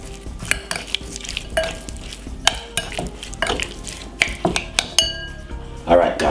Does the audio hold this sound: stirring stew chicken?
yes